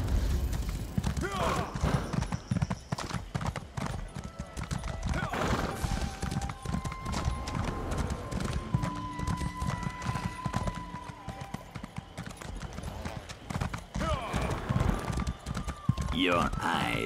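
Horse hooves clip-clop steadily in Elder Scrolls Online, with occasional neighs and whinnies over game music while a player talks throughout.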